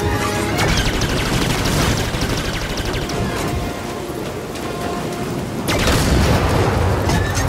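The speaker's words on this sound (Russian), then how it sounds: "Надо успеть между выстрелами." Blaster gunfire roars in the video game Star Wars Jedi: Fallen Order, a loud, dense barrage of rapid shots and booms that fills the whole stretch and swells again near the end, with no clear voices.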